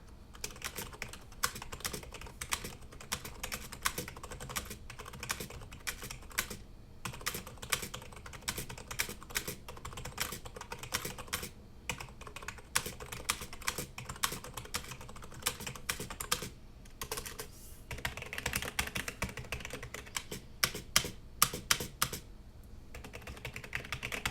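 Steady, fast typing on a 1stPlayer FireDancing mechanical keyboard, clicky keystrokes in a continuous flurry, close up and fairly loud, with no talking.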